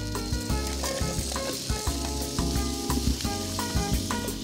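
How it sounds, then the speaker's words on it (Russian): Chopped onion sizzles and fries in a little oil in a pan on the stove, a steady loud crackle with stirring clatter and no talking. "Жарится наш лук."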